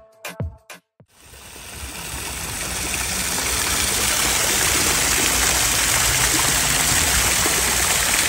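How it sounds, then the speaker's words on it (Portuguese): A cascading waterfall beside a hotel pool in Gramado splashes continuously. A few sharp handling knocks come first, then the rushing, trickling water swells up and settles into a loud, steady flow. "Tem uma cascata também."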